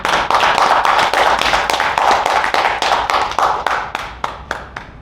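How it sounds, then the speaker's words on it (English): A round of hand clapping from the audience at an Indian book launch, loud and close at first, then thinning into scattered separate claps as it dies away. "Get a round of applause,"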